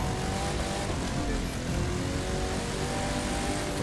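A Ford car's engine roars steadily throughout a rainy street race in The Crew 2, a dense, continuous drone with no talking.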